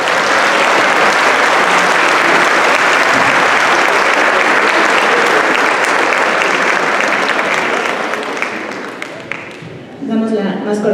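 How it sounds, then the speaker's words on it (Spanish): Loud, sustained applause from a seminar audience at a legal workshop, dense clapping filling the room for about nine seconds before tapering off as a voice begins. "Un aplauso, por favor."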